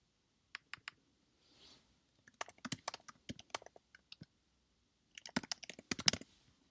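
Bursts of sharp plastic clicks from a computer mouse and keyboard at a desk, quick rapid groups separated by short pauses, close and fairly quiet with no voices.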